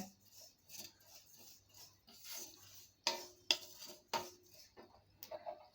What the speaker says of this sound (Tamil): பாருங்கள் படப்படன்னு பொரியுது